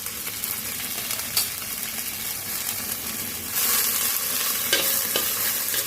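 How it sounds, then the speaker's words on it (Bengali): Brahmi greens fry in ghee in a pan, giving a steady close sizzle with stirring scrapes and a couple of sharp clanks, the hiss growing louder and brighter partway through. "এটা আমি ঘি ভাজবো।"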